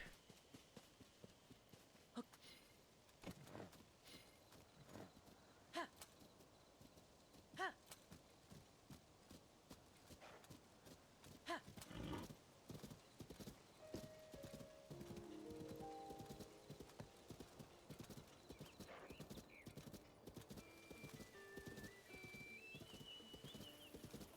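A horse's hooves clip-clop in The Legend of Zelda: Tears of the Kingdom, starting as sparse steps, then turning into a quicker steady trot with a whinny, over soft game music and chimes.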